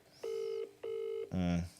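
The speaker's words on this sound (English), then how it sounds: "He's not answering his phone." A telephone call rings unanswered: two long, even ring tones separated by a short gap, then a lower buzzing tone, heard alone and fairly close.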